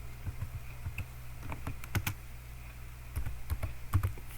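Typing on a computer keyboard while entering exam marks for an aggregate calculation: close, steady key clicks in irregular bursts, with no talking.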